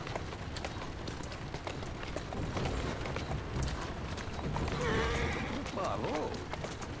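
Carriage horses clip-clop over city streets in Assassin's Creed Syndicate, a steady patter of hooves with wheel and mechanical rattle amid busy game ambience, while someone talks over it throughout.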